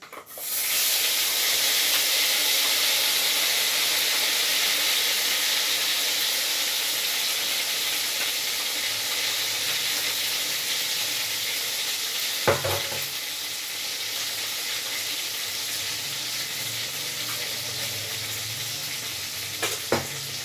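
Spices sizzle loudly in hot oil, a steady close frying hiss with scraping stirs throughout and a few sharper knocks of the spoon against the pan near the middle and end.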